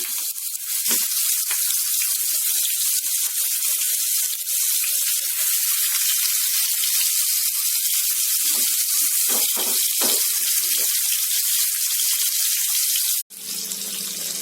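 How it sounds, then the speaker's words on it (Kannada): Bangda fish masala fries in a pan, giving a steady, bright sizzle that runs almost unbroken, with a brief sharp clatter near the end. "ನಾನು ಮೊದಲು ಮಸಾಲಾ ಫ್ರೈ ಮಾಡ್ಕೊಳ್ತೀನಿ."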